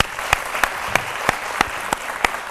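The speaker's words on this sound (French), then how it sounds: "On va quand même les applaudir, n'est-ce pas?" Applause in a television studio during a midday news show, with a dense clapping wash punctuated by about eight sharp, evenly spaced loud claps close by.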